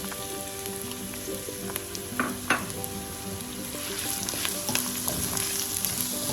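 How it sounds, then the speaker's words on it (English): Diced onions for a spicy black bean and sweet potato pie filling fry in hot oil with a steady, crackling sizzle, joined by a few light stirring clinks, close and alone. "I'll leave the oil to heat up and then I'll start putting in my ingredients. I'm going to add in first my diced onions,"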